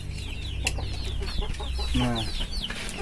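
Kampung chickens clucking and chattering in a farm pen, several birds making quick overlapping clucks and squawks at close range, with a brief spoken word among them.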